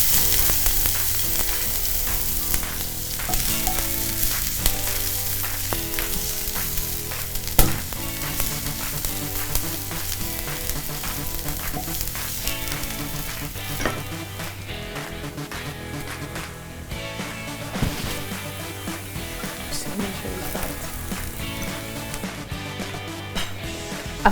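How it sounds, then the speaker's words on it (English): Finely chopped onions frying in a tablespoon of cooking oil, a steady close sizzle with occasional louder pops and stirring clatter, no talking. "I've started with 1 tablespoon of cooking oil, then I'll add some finely chopped onions."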